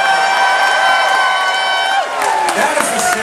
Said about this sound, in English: that's the sound of a full and slightly drunk audience.